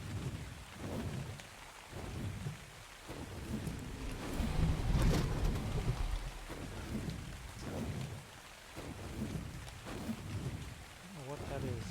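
Steady rain and rolling thunder during a storm in the survival game ARK, a continuous wash of rainfall that swells into a louder rumble midway, with a voice talking over it.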